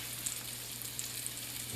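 Cube steak fries in a pan over medium-high heat with a steady, close crackling sizzle and occasional sharper pops.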